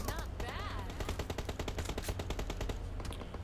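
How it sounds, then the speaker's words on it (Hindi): Gunfire in a shooter video game, with dense, rapid bursts of automatic shots that rattle loudly and almost without pause through the whole moment. "तभी फायर आता है"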